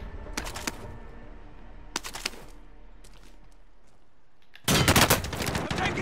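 Gunfire in Call of Duty Modern Warfare, with several short bursts of rapid automatic shots spaced apart, then a louder, denser volley near the end.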